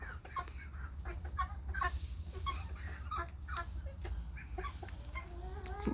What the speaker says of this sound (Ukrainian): Подобаються мені курочки. Така гарна тваринка, птиця.